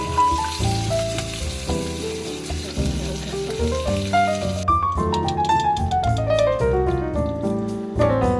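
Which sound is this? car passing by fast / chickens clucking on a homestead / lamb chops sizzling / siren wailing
lamb chops sizzling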